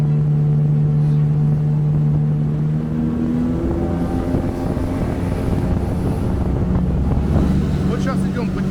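A compact collapsible HDPE Yolva boat planing on a river, its outboard motor droning loud and steady with wind buffeting the microphone, while a voice talks over the engine.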